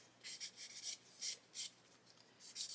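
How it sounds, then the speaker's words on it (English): A sanding sponge rubs along the moulded edge of a 1/32 scale Lancaster B.III bomber model, giving soft close scratchy strokes in short irregular bursts with quiet pauses between them. "a sanding sponge, and just go around and just soften that edge"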